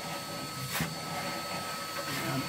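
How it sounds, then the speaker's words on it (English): A vacuum cleaner roars steadily while cleaning a Woodwarm Phoenix Firebright inset multi-fuel wood burning stove, a constant close whine with a brief suction surge partway through. "hoover that up and then hoover it inside hoover the holes where the vents are"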